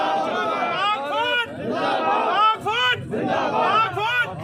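A large crowd at a funeral for a fallen Pakistani soldier roars back in unison to a Nara-e-Takbeer chant, repeated loud collective shouts rising and falling in waves.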